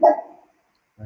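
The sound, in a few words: dog barking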